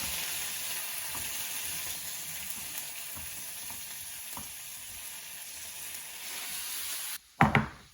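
Red pepper sizzles steadily in a hot frying pan while hummus is being made, a continuous close frying hiss with faint stirring, then a brief louder clatter at the end.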